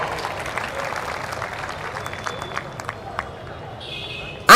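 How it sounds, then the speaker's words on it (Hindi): Broad crowd applause at a mushaira poetry gathering in Bhopal, a continuous wash of clapping with a few sharper claps standing out, ending in a sudden loud burst. "मैं चाहता हूं कि एक बार जोरदार तालियां आप सब अपने लिए बजा दें।"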